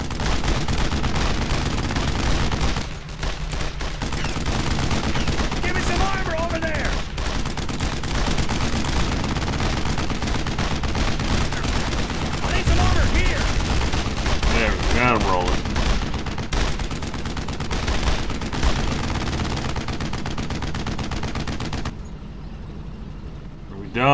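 Machine gun fire in the World War II shooter Brothers in Arms: Road to Hill 30, loud sustained bursts of gunfire and fusillade with mechanical clatter, soldiers shouting over the shooting throughout.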